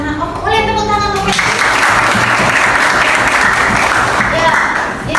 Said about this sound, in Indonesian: Jangan hanya karena boleh tepuk tangan dulu